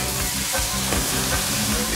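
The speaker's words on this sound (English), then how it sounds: "This is the most important part of cooking my salmon." Salmon frying on a hot skillet gives a loud, close, steady sizzle and hiss with no break.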